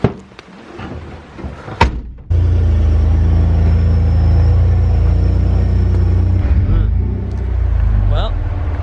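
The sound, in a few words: 4WD vehicle driving up a track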